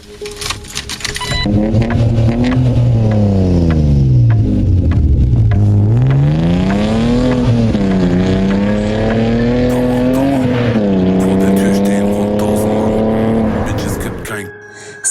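Car engine revving hard and accelerating away as a storytelling sound effect, loud and close, pitch sweeping down and up through gear changes over a continuous roar, with a voice speaking over it.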